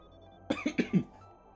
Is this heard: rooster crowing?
no